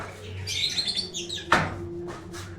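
Budgerigars chirping and twittering up close, with a rapid burst of high warbling notes and a sharper squawk near the end.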